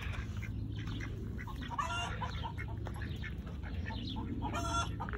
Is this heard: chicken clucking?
yes